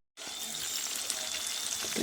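Food sizzles steadily in a hot frying pan, a dense, continuous crackle that starts abruptly and carries on throughout with small pops and stirring clatter near the end, with no talking.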